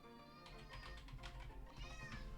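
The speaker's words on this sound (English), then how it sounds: "That was a meaty meow." A cat gives a single long, drawn-out, full-throated meow up close, heard on its own with no other sounds around it.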